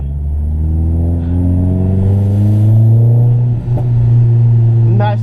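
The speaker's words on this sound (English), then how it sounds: "Nice little crackle and pop coming from the Clio. Sounds mental." Renault Clio RS 197 engine revving hard on a B-road, loud rising harmonic drone with a gear-change dip and a sharp pop near the end, heard from inside the car.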